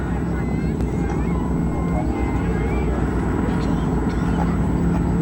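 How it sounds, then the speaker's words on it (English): Vintage warbird airplanes of the Western Warbirds team come in to land at an airshow at Cranbrook Airport, a steady engine drone and broadband rumble holding throughout, with a voice talking over it. "Here they come in the Western Warbirds, going to do a landing for us."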